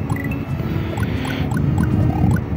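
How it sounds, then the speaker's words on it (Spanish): Someone drinks from a thermos, a close, sustained liquid pouring and gulping sound with wet bubbling texture that swells slightly toward the end, with no talking. "cada vez que hago el sonido del termo a veces, definitivamente es porque estoy bebiendo algo"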